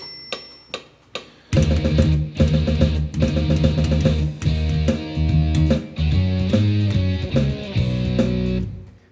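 A bass guitar plays a fast run of rapid, even alternating-finger triplets in a driving repeated pattern, loud and close, after a few sparse opening taps.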